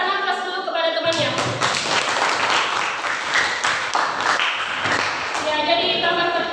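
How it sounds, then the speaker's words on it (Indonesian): Audience in a classroom setting claps for a student, a dense burst of applause filling most of the clip at steady loudness before tapering off, with a voice heard at the edges. "berikan aplaus dulu kepada temannya"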